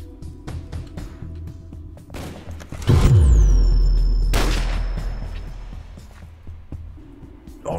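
Sniper gunshots ring out during a Minecraft duel, a couple of sharp cracks followed by a heavy booming blast that slowly rolls away, loud and close.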